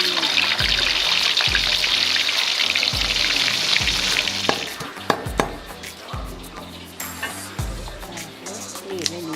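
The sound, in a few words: fish frying in a pan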